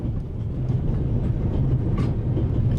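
Steady low rumble of a steam train running in The Raven: Legacy of a Master Thief, with continuous rolling wheel and carriage noise and faint rail clatter, loud and close, with no talking.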